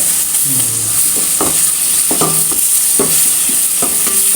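Tomatoes with crushed pepper and cumin are sautéed in a pan, a loud close sizzle broken by a series of spatula scrapes and knocks against the metal, repeated about every half second, with no voices.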